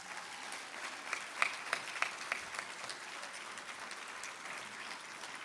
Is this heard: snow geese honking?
no